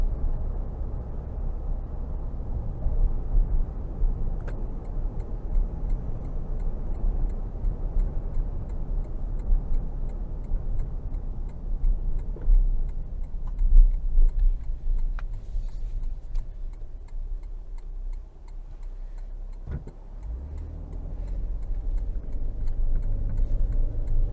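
Cabin of a 2022 Toyota Tundra SR5 TRD Sport with a twin-turbo 3.5-litre engine while driving, a steady low road and engine rumble with a faint regular ticking like a turn signal over it, no talking.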